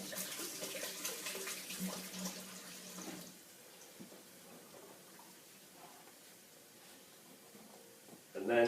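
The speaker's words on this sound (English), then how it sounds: "Quickly wash your hands." A kitchen tap runs as hands are quickly washed mid-way through frying bacon for carbonara. Water hisses steadily for about three seconds, then cuts to a quieter room with faint clatter.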